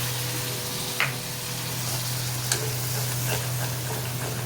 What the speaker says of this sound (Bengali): পনিরটা হালকা নুন হলুদ দিয়ে ভেজে নিচ্ছি